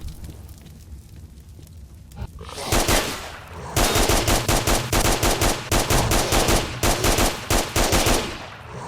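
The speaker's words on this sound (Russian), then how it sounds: "Сколько надо патронов из калаша, чтобы развалить лютого похитителя на свай?" Kalashnikov rifle fire in the game STALKER, starting as a quiet lull, then loud close bursts of rapid automatic shots in repeated volleys with brief gaps, no talk.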